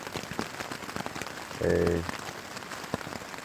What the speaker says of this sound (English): It's absolutely bucketing down outside, and the wind has picked up a wee bit as well.